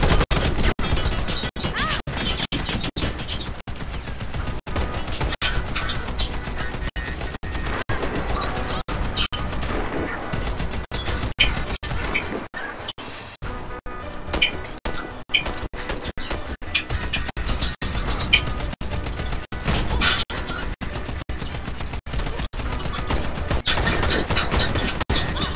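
Gunfire from a firefight in the Warface shooter game on Nintendo Switch, a dense, continuous clatter of shots and impacts with a brief thinning midway, loud and close throughout with no talking.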